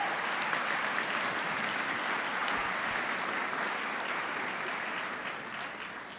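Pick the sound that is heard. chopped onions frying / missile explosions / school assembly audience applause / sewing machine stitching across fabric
school assembly audience applause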